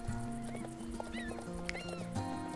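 Icelandic horse moving in tölt gait in Star Stable, with quick, even hoofbeats and a couple of whinnies over steady game music.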